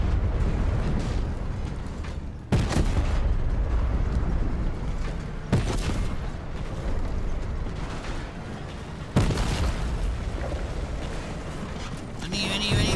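Bombs go off in a Fortnite match: several heavy, booming blasts strike at intervals, each followed by a loud rumbling roar that fades before the next one hits, with continuous dense noise in between.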